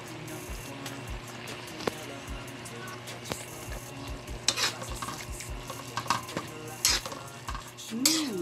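Onion leaves stir-frying in a pan for odong noodles with sardines and spinach, a steady sizzle under repeated scrapes and clinks of a utensil against the pan, close and moderately loud with no talk.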